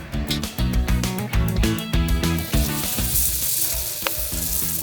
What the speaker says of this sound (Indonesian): Goreng satu persatu sambil sesekali ditekan-tekan sampai bentuknya pipi